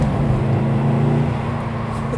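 A car accelerating in a PS4 driving video game gives a loud, steady engine drone that holds throughout with a rich layered hum and a slight fade toward the end, no voices over it.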